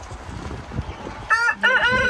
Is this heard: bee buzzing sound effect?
no